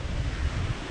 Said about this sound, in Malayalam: നല്ല കാറ്റുമുണ്ട് അല്ലേ